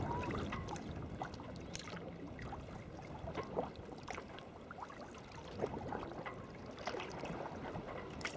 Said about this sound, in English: Some creaking going on with these yachts.